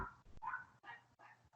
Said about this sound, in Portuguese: Nossa, essa cachorrada aqui me mata.